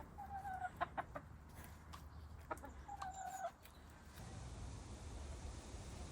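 Pet chickens cluck in short, faint bursts nearby, with a few louder calls in the first half before the clucking fades into quiet outdoor background.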